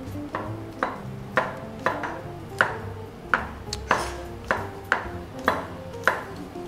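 Knife slicing garlic on a cutting board, casual rough slicing for a creamy chicken bacon spinach pasta sauce: about a dozen sharp, fairly even chops knocking on the board, close and alone, with no talk.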